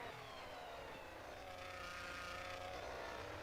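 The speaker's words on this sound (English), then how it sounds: "You can hear the diffuser or the exhaust coming into play." Formula-style race car in the rFactor 2 sim racing game at the San Marino GP, a steady, faint engine and exhaust drone running continuously with no voices.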